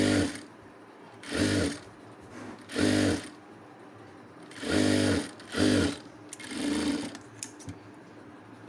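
A sewing machine stitches cloth slowly in about six short bursts, each a loud, close mechanical whirr with quiet gaps between, and no talking.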